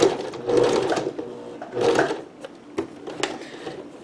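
Lace is stitched onto a Dickies work shirt apron on a sewing machine: two close, loud runs of fast mechanical chatter with pauses, then quieter clicks and taps as the fabric is turned.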